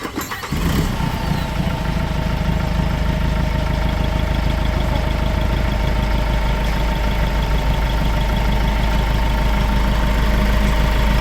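Hyundai engine cranking and catching after injector bleeding, then settling into a loud, steady, slightly knocking idle close by.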